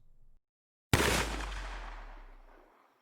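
A single loud gunshot bursts out after a brief silence, its boom decaying over a couple of seconds.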